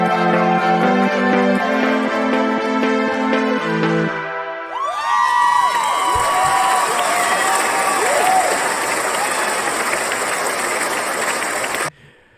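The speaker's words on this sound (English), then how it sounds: "I guess the more true fans start cheering already here, and then when the track is done, you hear the rest of the crowd." Simulated live crowd for a music track: a long wash of cheering and applause from a large audience, loud and steady, then cutting off abruptly at the end, with no speech.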